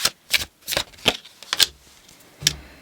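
Tarot cards shuffled by hand in a quiet room, a series of about six or seven short riffling bursts in an uneven rhythm, close and fairly soft, with no talking.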